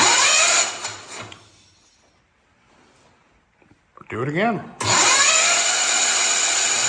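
A hot rod Ford engine cranks on its starter in two loud, whirring bursts separated by a quiet gap, and a person speaks briefly just before the second burst.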